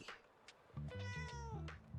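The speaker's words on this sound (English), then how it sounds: "And she likes it. She meows." A cat meows in the Tiny Bookshop video game: one long, clear, close meow rising and falling in pitch, with no talk over it.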